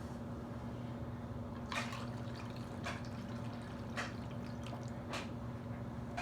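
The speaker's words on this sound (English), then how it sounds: "And we're going to add a little more water." Water runs into a jug of yeast mixture for homemade strawberry wine, coming in several short, splashy bursts over a quiet steady hum, close and fairly soft.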